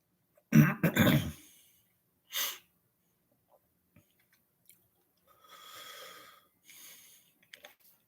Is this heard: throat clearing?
yes